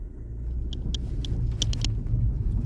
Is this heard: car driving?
yes